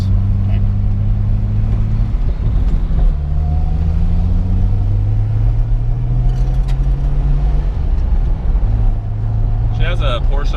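A 1974 Datsun 260Z pulls away along a country road, its engine droning loud and close from inside the cabin and climbing in pitch through several gear changes, with occasional rattles.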